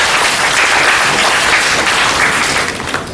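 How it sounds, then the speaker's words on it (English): Dense, loud audience applause at a school keynote address fills the room steadily for about three seconds and then begins to fade toward the end. "give yourself a round of applause"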